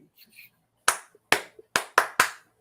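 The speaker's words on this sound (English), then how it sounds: "Has to be a Mick Jagger clap" Five sharp, separate hand claps in a slightly uneven rhythm, close and loud against near silence, following a few faint murmured sounds at the start.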